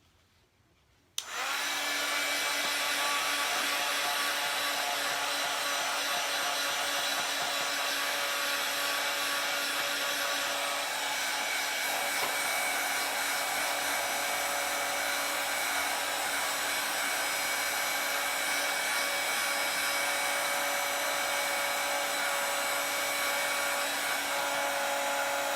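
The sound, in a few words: drying chalk paste with a dryer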